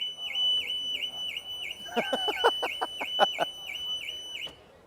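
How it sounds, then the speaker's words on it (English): The car alarm of an electric Ford Explorer blares with a steady high warbling tone, then breaks into a rapid series of sharp chirping blasts before cutting off abruptly. "Apparently we can set off the alarm, though."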